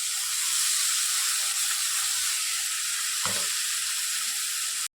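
Smashed roasted tomato sizzling in hot oil gives a loud, steady, hissing fry with one brief thump partway through before the sound cuts off abruptly.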